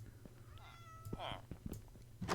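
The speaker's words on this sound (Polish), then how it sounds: "Słyszałem kota." A cat meows a couple of times in Minecraft, faint and quiet, over a low hum with soft clicks and thumps around it.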